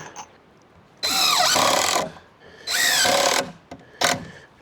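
A power drill drives screws into a wooden saw horse in two roughly one-second whirring bursts with pitch dipping under load, then a short final blip, separated by quiet pauses.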